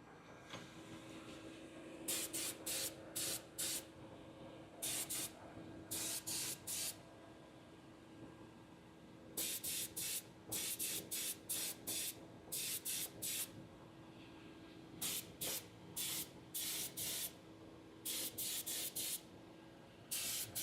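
A spray gun coats donut-shaped baby shark pieces in short, repeated hissing bursts, each lasting about a second, separated by pauses with a faint background hum.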